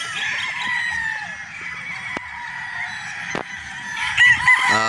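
A gamefowl rooster crows repeatedly nearby at a game farm in Batangas, Philippines, with clucking and other fowl calls scattered through the background and a couple of sharp clicks.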